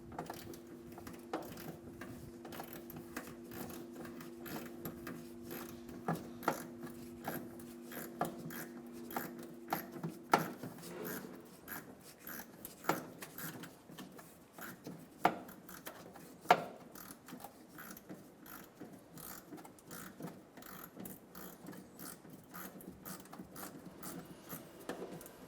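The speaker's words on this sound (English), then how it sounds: "Using a 10mm socket, we're going to loosen the clamp on the filler neck" A 10mm socket ratchets to loosen the clamp on the fuel filler neck of a 2000-2006 Toyota Tundra, producing faint, rapid clicking and small metallic ticks with occasional sharper clacks over a low hum.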